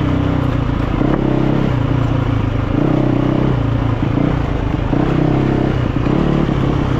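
A Yamaha YZ450FX dirt bike rides through bush terrain, its engine loud and close with rhythmic revving surges and clattering over rough ground, no speech.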